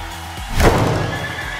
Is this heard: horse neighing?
yes